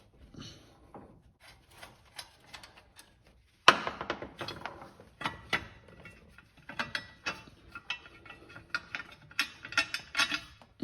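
A hand ratchet loosening bolts from a compressor bracket on a Buick 350 engine, with quick clicking pawl strokes in short irregular runs and occasional metallic knocks, close and fairly quiet.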